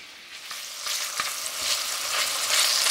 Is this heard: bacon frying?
yes